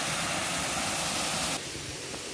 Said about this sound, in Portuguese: Pronto, agora chega a cachoeira.